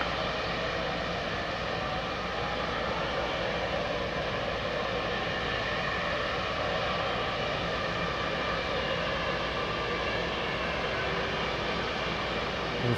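A KLM airliner at London Heathrow, its wing wet with moisture, gives off a steady, broad jet roar that holds evenly for the whole stretch at moderate distance, with no voices over it.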